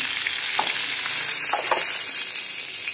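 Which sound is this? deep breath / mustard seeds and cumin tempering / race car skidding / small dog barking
mustard seeds and cumin tempering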